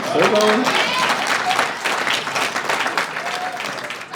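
Loud, sustained applause from a graduation ceremony audience with some cheering voices, tapering slightly toward the end.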